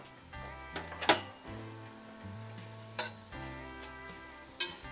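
Flour being stirred into a pot of wild rice and mushroom soup, quiet wet scraping and a few sharp spoon knocks against the pot over a low background hum.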